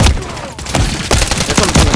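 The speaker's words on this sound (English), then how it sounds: "Taking effective fire." Heavy gunfire in a Call of Duty MW3 multiplayer War match: a dense fusillade of rapid rifle shots and booming impacts, loud and close, continuing almost without a break.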